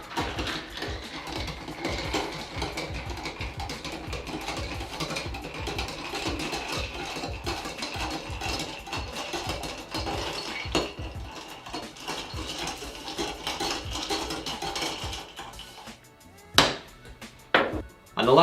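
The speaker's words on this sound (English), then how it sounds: "what you want to do next is now give it a nice good stir" Mamie Taylor cocktail, a three-ingredient drink, stirred in a glass, giving a steady run of close clinking, scraping and rattling for most of the time, with a few sharper knocks near the end.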